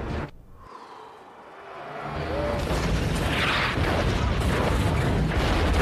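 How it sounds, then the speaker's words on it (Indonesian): A bomb detonates in a zombie action film scene, a sudden booming blast that swells into a sustained, loud roaring rumble of debris and fire. "Tak lama bom pun meledak."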